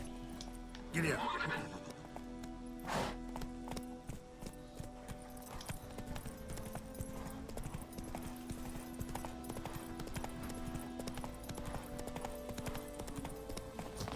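A horse galloping in Witcher 3, a steady clip-clop of hooves with a loud neigh near the start, close and continuous, while someone talks over it at times.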